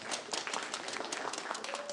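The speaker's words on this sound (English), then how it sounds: "Let's give another round of applause to our beautiful children" Applause for children at an Arabic program graduation ceremony, a steady dense patter of many hands clapping throughout, fairly close and continuous.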